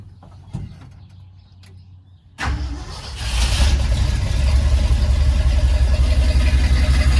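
A car engine fitted with a newly installed, non-welded exhaust starts up nearby after a quiet stretch, then revs and holds a loud, rumbling idle close to the listener.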